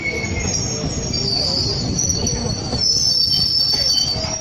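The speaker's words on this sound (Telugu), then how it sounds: "ట్రైన్ వచ్చింది" A passenger train pulls into a station platform near Tirupati, its steel wheels squealing in loud, sustained high-pitched tones over a rumbling roll, close and continuous.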